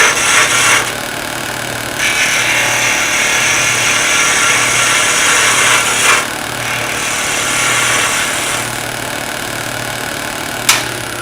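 A skew chisel shaves wood on a spinning lathe in a planing cut, giving a loud hissing scrape in several bursts of a few seconds each, with the lathe motor humming steadily underneath.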